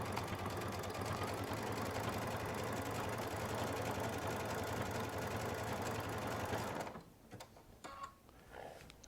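A Baby Lock sewing machine quilting with a leather roller foot runs in a steady, fast mechanical whir for several seconds, then stops, leaving a few soft clicks and handling noises.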